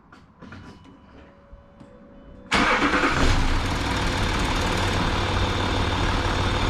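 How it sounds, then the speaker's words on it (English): A few quiet clicks, then a Land Rover Discovery 3 (LR3) engine cranks and catches with a sudden loud roar, settling into a steady idle. "So just going to start the car up, let it run."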